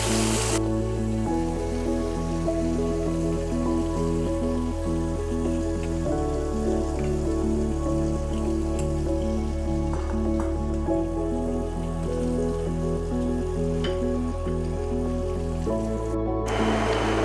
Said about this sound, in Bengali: বড় মাছ তো তাই একটু অল্প অল্প করে দিয়ে দিয়ে ভাজতে হচ্ছে